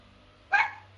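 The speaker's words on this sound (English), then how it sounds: "My dogs are angry at something." A dog gives a single short, sharp bark indoors, faint and somewhat distant against a low steady hum, with silence on either side.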